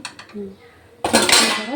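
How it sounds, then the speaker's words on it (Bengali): Metal utensils clink against a pan while mutton fries; a few soft clinks come first, then a loud burst of scraping and clattering fills the second half. "তো মাংসটা ভাজা চলছে এখন"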